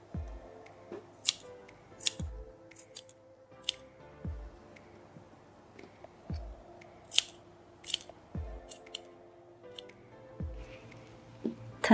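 Scissors snip through fabric around a cat ear template in a quiet room: sharp, close cuts come in short bursts at an irregular, unhurried pace, with no talking.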